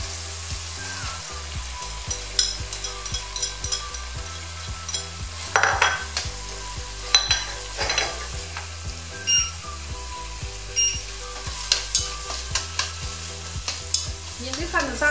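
Minced meat stir-frying in a pan for Sichuan-style braised tofu, a steady sizzle broken by repeated scraping and clinking of a utensil against the pan, close and busy throughout with no talk.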